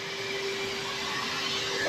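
A vacuum cleaner runs steadily while cleaning the driver-side floor of a car interior, a close, continuous whine and hiss with a faint hum underneath and no talk.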